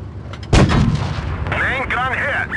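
A leKpz M41 90 mm tank cannon in a video game fires a high-explosive shell with a sharp, loud boom that rolls into a long rumbling tail, followed by a whining, warbling mechanical tone.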